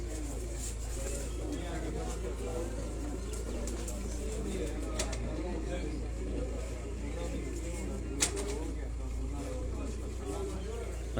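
A Superman pigeon on a rooftop loft keeps up soft, steady cooing over a constant low hum, with occasional clicks and distant background noise.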